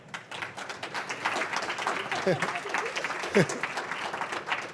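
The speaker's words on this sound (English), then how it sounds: "ask everyone to give them a big clap because they're going to be working very hard" An audience claps for the panelists at a public discussion on time-based art institutions, a moderate sustained patter of hands with some voices and a couple of brief louder sounds on top.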